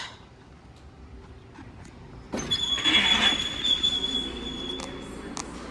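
A Toronto subway train arriving westbound at Chester station, a growing rumble that swells suddenly into loud rolling noise with a high, sustained wheel squeal, then eases slightly as it slows.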